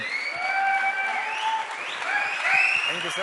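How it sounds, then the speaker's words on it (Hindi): Loud audience applause at a business empowerment training event, a continuous wash of clapping under overlapping whistles and shouts from the crowd. "जोरदार ताली होनी चाहिए सर के लिए."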